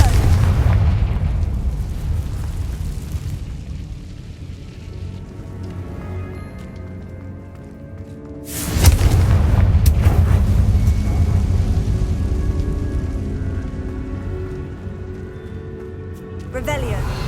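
In the video game Hogwarts Legacy, a Confringo spell bursts in a heavy booming explosion about halfway through, over a low rumbling game backdrop, with a voice heard around it.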